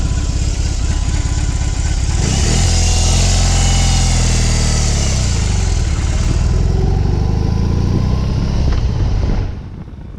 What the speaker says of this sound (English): there is something grin-inducing about a massively over-the-top engine in a long and low motorcycle